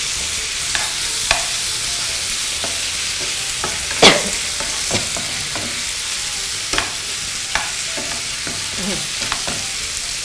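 Pork belly with dried chili, soy sauce and fish sauce sizzles in a pan during a basil stir-fry, a steady hiss broken by the irregular scrape and clatter of a stirring utensil, close and with no talking.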